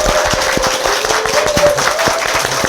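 Group clapping closes a Korean talk show segment, a steady busy patter of hands filling the clip at close range with a faint tone and some voices mixed in.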